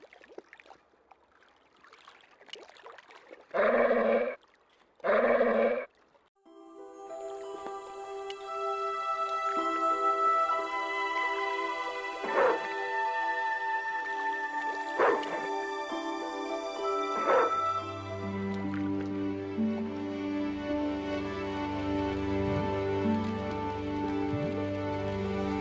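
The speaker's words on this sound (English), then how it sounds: "With that crazy dog around?" Dog barking in Broken Sword 2, set in Marseilles: two loud close barks, then a stretch of game music with more faint yips and bumps under it.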